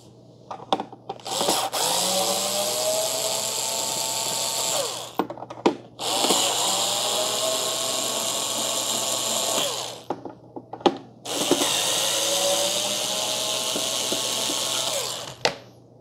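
A power screwdriver backs Phillips screws out of a Keurig K-Supreme Plus Smart coffee maker in three long, loud whirring runs, each broken by brief clicks and pauses between screws.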